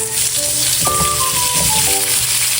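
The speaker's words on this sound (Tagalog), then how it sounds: "Medyo napiprito na po itong ating carrots" Carrots fry in a pan for buffalo kaldereta, a steady close sizzle running the whole time beneath a soft tonal background.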